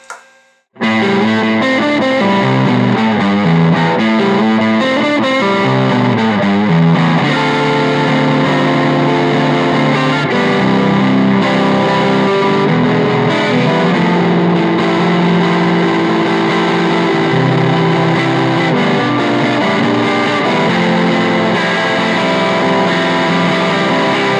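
A loud, sustained electric guitar on its neck pickup through an Epiphone Valve Jr tube amp, heavy overdriven distortion, plays continuous melodic lines and chords, thick and saturated, filling the whole stretch.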